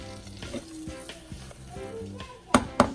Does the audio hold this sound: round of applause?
no